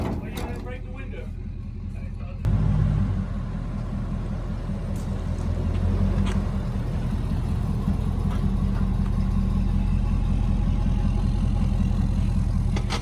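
A 1956 GMC military dually truck with a 302 engine, started for the first time in over 30 years, runs at a steady idle in a shop, loud and close, after a brief moment of voices before it fires.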